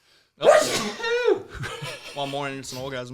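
A single loud sneeze bursts out close up, followed by people talking and laughing.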